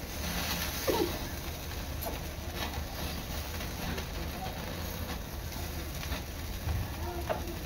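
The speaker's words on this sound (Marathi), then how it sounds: "आता एका साइडने कोलंबी परतून घ्यायची आहे" Tandoori-style prawns sizzle steadily in a hot pan as they fry on one side, a constant moderate crackle with a few faint clicks and stirring touches over the top.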